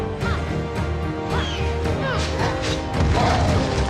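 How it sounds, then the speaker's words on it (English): Heavy ground-smash attack from the video game Immortals Fenyx Rising, giving repeated crashing thuds and impacts over a dense, continuous game soundtrack, growing louder toward the end. "Smashing the ground is also one of his favorite attacks."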